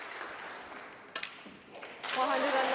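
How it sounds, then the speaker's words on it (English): Snooker audience applauding a 109 century clearance by Si Jiahui in a final, the clapping building near the end after a quieter stretch of room noise and a brief burst midway. "Listen to the applause."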